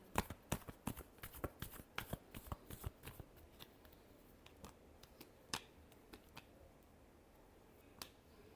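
Tarot cards being shuffled by hand, a quick series of crisp snapping riffles that is dense at first and thins into sparse flicks, faint and close with no talking.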